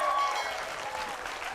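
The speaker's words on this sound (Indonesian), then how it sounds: "Tepuk tangan lagi dong sekali lagi untuk Pak Eko, Mas Desi dan Mas Topan." A studio audience at an Indonesian TV comedy show applauds steadily, a brief continuous wash of clapping at close range.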